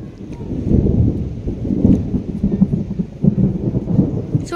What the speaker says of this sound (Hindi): केते जोर घड़घड़ी बिजली मारलानी तादे टोपे टोपे वर्षा पकईलानी